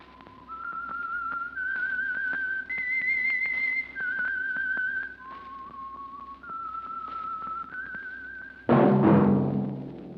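Whistled theme signal of The Whistler old-time radio mystery program, a lone melodic whistle of held and sliding notes over a quiet background, ending in a sudden loud burst of orchestral music.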